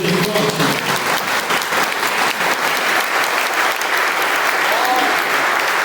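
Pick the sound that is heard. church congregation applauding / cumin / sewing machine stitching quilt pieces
church congregation applauding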